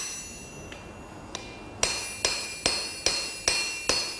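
A blacksmith's hammer strikes hot steel on a bottom swage tool while a water leaf is forged for a garden gate: a faint tap, then six evenly spaced ringing metallic blows, each with a bright decaying ring.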